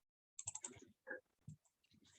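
Keys on a calculator are pressed in quick, faint clicks, a cluster of taps followed by a few scattered presses in a quiet room.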